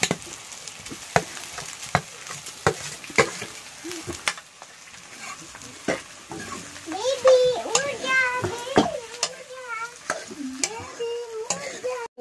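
Onions and mashed potatoes fry in a pan with a steady sizzle, punctuated by sharp utensil taps and scrapes against the metal, while a child and an adult talk nearby in the second half.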